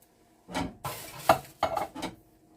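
Diced tomatoes and their juice go into a pot of taco soup: a few short, close bursts of pouring, scraping and metal clinks against the pot, separated by quiet gaps.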